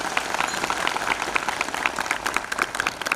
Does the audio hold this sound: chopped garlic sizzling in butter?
no